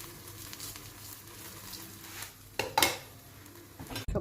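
Paratha frying in desi ghee in a pan gives a soft, steady sizzle, broken by a few sharp clinks and scrapes of a utensil against the pan near the end.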